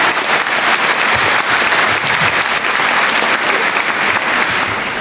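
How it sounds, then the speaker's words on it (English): Loud, sustained applause fills a graduation ceremony hall, a dense crowd clapping continuously with no break, close and even throughout. "Can we pick them up with a mighty round of applause and a cheer, please?"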